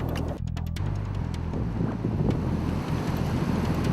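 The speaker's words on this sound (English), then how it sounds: "We got a headwind." Steady headwind buffeting a cross-country bicycle racer, a continuous low roaring rush of wind noise with a few sharper gusts early on, loud and close with no voices.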